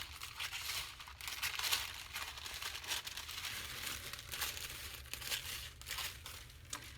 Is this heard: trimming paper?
yes